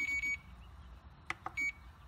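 A Taranis QX7 radio transmitter sounds a few short, high electronic beeps: one pair early, then a sharp tick and a final beep, quiet against a low background hum.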